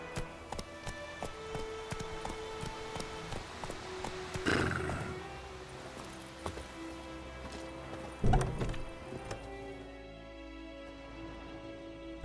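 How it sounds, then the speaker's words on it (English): A horse in The Witcher 3 video game with soft hooves clopping and two louder whinnying snorts, the sound fading near the end. "Whoa there, Roach."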